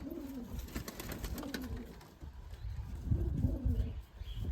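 Andhra pigeons coo in low, repeated rolling calls from a nearby loft, with a busy background of other birds and a louder burst of cooing toward the end.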